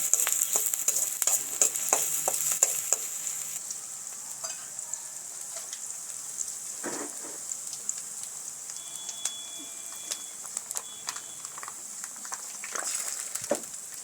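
Green onion and capsicum sauté in a hot pan for a Manchurian-style dish, giving a steady close sizzle broken by sharp intermittent scrapes and clicks of stirring, with no voices.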